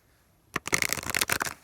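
Tarot cards being shuffled by hand, a quick run of crisp riffling flutters that starts abruptly after a brief near-silence and continues close and clear with no talking.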